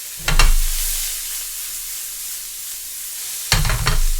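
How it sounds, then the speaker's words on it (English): Onions hit a hot pan with olive oil and sizzle loudly, then settle into a steady close hiss of frying, with a second stirring burst near the end. "I'm going to spray the pan with a little bit of extra virgin olive oil, and in goes my onions."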